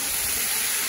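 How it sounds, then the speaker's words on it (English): Hamburger meat browning with onions in a pan, a loud, close, continuous sizzling hiss with no talking over it. "brown it up, sizzling really good with these onions"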